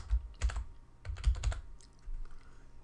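Typing on a computer keyboard while entering a document title, a few quick clustered bursts of key clicks with short pauses, close and fairly quiet, no talking.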